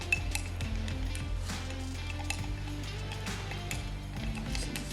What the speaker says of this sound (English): I'm gonna stir very well.